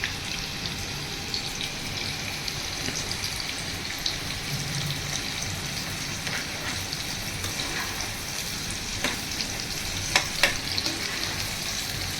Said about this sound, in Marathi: आता भाजी फ्राय करून घेते